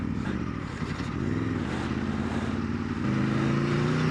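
An Aprilia RSV4 Factory superbike engine held at full throttle, a loud continuous roar with a rising pitch that steps up near the end, close and alone.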